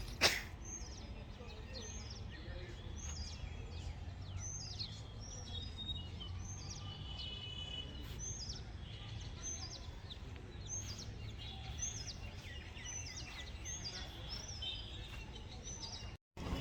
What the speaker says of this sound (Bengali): সেই সাথে পাখির গুনগুন কিচিরমিচির ডাকগুলো আপনারা হয়তো বা শুনতে পাচ্ছেন